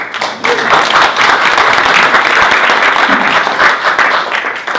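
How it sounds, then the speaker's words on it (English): Loud round of applause from an audience at a presentation on a digital working platform, steady dense clapping close by that continues without a break. "Give me a round of applause."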